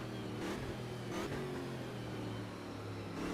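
Racing car engines rev and whine loudly and continuously in a video game race on a short circuit at Goiania, with pitch rising and falling as several cars pass close through corners.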